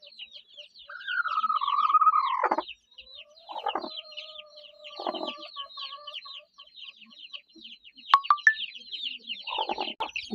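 Aseel hens brooding on their eggs give low clucks and drawn-out calls in short bursts, close by, with small birds chirping steadily in the background.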